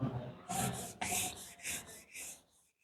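Someone rubs chalk off a classroom board during a surveying lesson with a duster, making about six quick, faint, rhythmic scrubbing strokes that fade out at the end.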